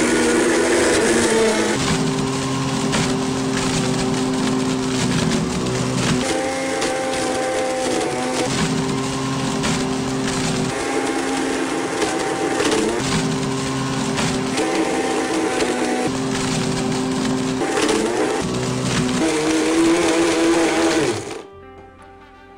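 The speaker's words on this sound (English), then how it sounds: "I knew I could get the iPad in a BlendTec Total Blender." A Blendtec Total Blender motor roars loudly and steadily for about twenty seconds, its pitch shifting as a crushed iPad grinds and rattles inside, then cuts off abruptly.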